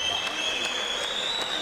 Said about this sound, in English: can we please have a big round of applause for both of our